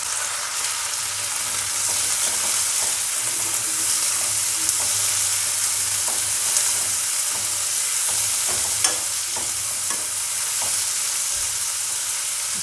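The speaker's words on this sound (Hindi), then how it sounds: "टमाटर को भी यहाँ पे भूनना है।" Tomatoes and green chillies frying with onions in a pan, a loud, continuous sizzle with occasional stirring scrapes, heard close up with no talking.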